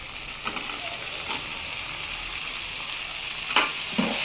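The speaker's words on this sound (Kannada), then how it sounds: "ಈಗ ನಾನು ಬೇಯಿಸಿಟ್ಟಿರ್ತಕ್ಕಂಥ ತರಕಾರಿಗಳನ್ನ ಹಾಕ್ಕೊಳ್ತಾ ಇದ್ದೀನಿ." Cooked vegetables (drumstick, potato, carrot, beans and peas) sizzle in a pan of frying tomato for sambar. A steady crackling hiss runs throughout, broken by a few sharp stirring clatters, with no talking.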